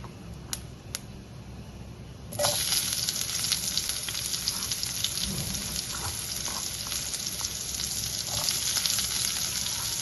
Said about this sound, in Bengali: পেঁয়াজ কুচিটা অ্যাড করে ওটাকে ভালো করে ভেজে নিতে হবে